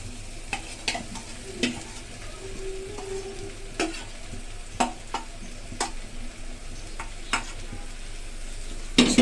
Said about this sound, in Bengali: ভালো করে নাড়াচাড়া করে কষিয়ে নেব 2 মিনিটের মতো